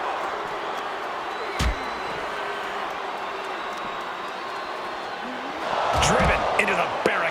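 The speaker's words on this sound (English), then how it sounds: "And do you hear this capacity crowd?" In the WWE 2K25 wrestling game, an arena crowd roars steadily throughout a Rikishi vs Stone Cold Steve Austin match, with a sharp slam partway through and the cheering swelling louder near the end.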